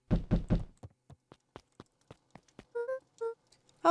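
Three firm knocks sound on a front door in the Beacon Pines video game, followed by softer scattered taps and a few short chime-like tones, all crisp and close with no talking.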